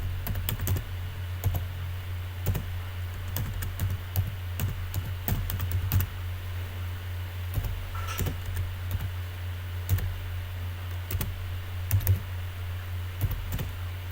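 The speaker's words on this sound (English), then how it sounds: "Then I will now type my name here." Computer keyboard typing of a name into a database label, irregular bursts of clicky keystrokes with pauses, close and fairly clear over a steady low hum.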